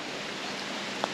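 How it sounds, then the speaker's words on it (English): Steady, soft rain falls on a rainy day in Thailand, an even hiss of drops with no clear individual impacts and no voices. "it's a bit of a rainy day today"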